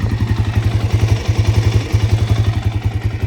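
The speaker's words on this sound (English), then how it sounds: "Engine sounds pretty quiet, you know, there's no ticking" A used flip dirt bike engine idles close by, a steady rapid thumping pulse with a slightly rough, uneven rhythm and no other sounds.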